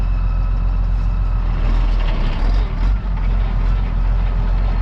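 A farm tractor engine fires up and runs at a loud, steady idle close by, a deep rumble with a brief dip in the middle, at the start of silage season.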